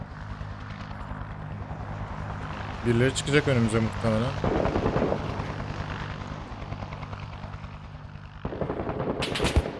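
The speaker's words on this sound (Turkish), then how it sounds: "Helikopter ilerliyor." A helicopter's steady rotor drone in the video game Six Days in Fallujah runs beneath bursts of gunfire, while people talk over the constant engine noise.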